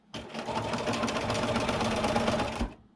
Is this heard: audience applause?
no